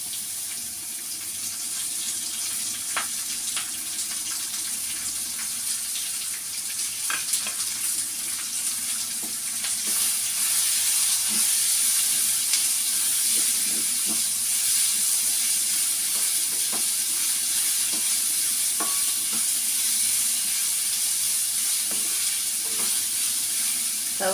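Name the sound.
onions and green chillies frying in a pan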